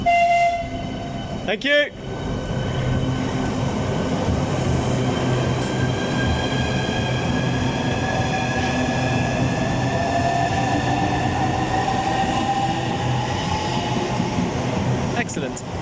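A high-speed HS1 train passes through Stratford International station, a loud sustained rolling roar with whining tonal hum close by on the platform, while a voice briefly calls out over the noise near the start.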